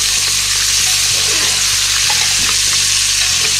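Cowpeas and potatoes fry in an oiled kadai with cumin, making a loud, dense, continuous sizzle up close, with soft scraping of a spoon stirring through the vegetables now and then.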